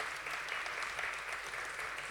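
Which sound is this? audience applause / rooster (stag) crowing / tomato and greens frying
audience applause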